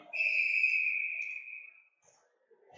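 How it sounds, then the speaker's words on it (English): A referee's whistle ends a period at an ice hockey game, one long steady shrill blast lasting nearly two seconds, loud and close, followed by faint arena noise. "the referee blew his whistle to end the period instead"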